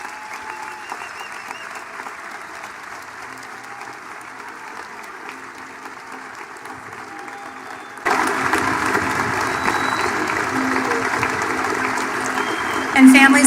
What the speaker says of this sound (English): As they enter, let's give them a round of applause.